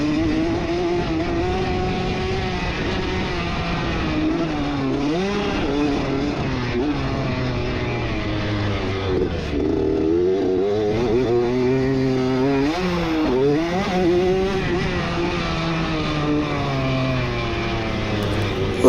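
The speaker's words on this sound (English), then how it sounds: "I can hear the Yamaha behind me in third." Yamaha dirt bike engines race at a motocross event at Splinter Creek, a steady, loud, close engine drone with rising and falling revs as riders shift and climb, with other bikes audible nearby throughout.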